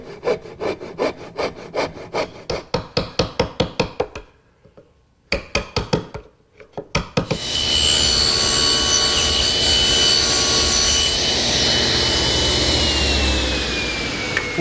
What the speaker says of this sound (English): make a couple saw cuts down to my layout lines, and remove the material with a chisel